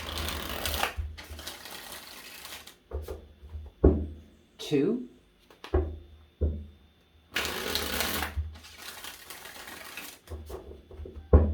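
Tarot cards are shuffled in several loud riffling bursts close by, separated by pauses with a brief spoken word in between.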